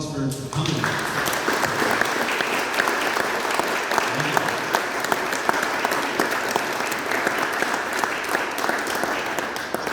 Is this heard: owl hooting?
no